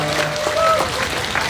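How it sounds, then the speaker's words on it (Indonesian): A crowd at an outdoor speech event breaks into applause, a dense continuous patter of clapping hands with some voices mixed in, fairly loud and close throughout the short burst. "Tepuk tangan."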